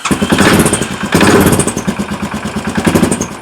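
An air-cooled motorcycle engine fires up and runs loud and close, pulsing unevenly at first before settling into a rough, throbbing idle, with no talk.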